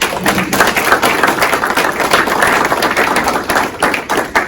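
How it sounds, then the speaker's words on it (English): Loud, dense audience clapping at an indoor ceremony honoring a sheriff, continuous and close for several seconds with no speech over it. "let's give him a round of applause"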